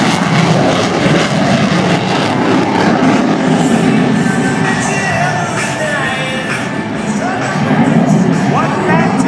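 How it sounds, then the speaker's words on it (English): A carrier-landing aircraft touches down and its engines roar up to full throttle to go around, a loud, continuous wash of engine noise with a voice talking over it. "Now listen and watch as he plants it and then shoves the throttles forward to go around."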